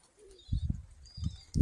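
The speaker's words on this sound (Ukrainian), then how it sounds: "оце мої голуби" Domestic pigeons coo in a few low, soft bursts close by, with faint chirps and a brief flutter in a quiet yard.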